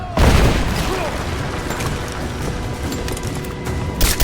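Gunfire and explosions in the video game Rise of the Tomb Raider, a sharp boom at the start followed by sustained dense shooting and rumble, with a fresh burst at the very end; game voices shout over it.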